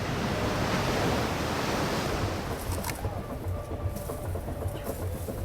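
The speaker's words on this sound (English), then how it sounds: "So this is the second biggest falls in this Congo River." The second biggest falls on the Congo River roar as a dense, steady rush of churning water, loud and continuous with a windy edge and no voices over it.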